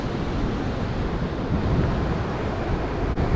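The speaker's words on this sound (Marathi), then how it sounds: "इथे आता वारा खूप आहे" Strong wind and sea waves at Harihareshwar beach, a steady broadband roar with buffeting wind noise on the microphone, loud and continuous throughout with one brief dip near the end.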